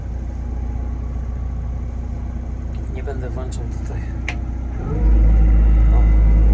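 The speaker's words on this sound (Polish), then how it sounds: "W tej chwili maszyna silnik pracuje równiutko." A 2017 BOMAG BW 174 road roller engine idles evenly in eco mode, a steady low rumble that rises to a louder, heavier drone near the end, with someone speaking over it.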